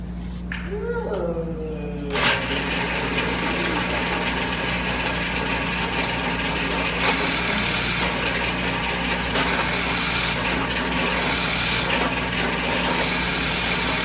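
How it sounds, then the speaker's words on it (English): Power drill boring holes into a clamped piece of wood, a steady broadband whir running continuously and fairly loud for the full length after a brief quieter start. "now we've got our holes drilled"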